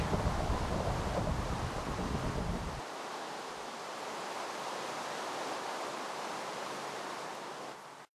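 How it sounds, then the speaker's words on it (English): Thunderstorm in Minecraft, a loud rushing rumble of rain and thunder that cuts down after a few seconds to a softer, steady wash of noise before ending abruptly. "in the middle of a thunderstorm in Minecraft"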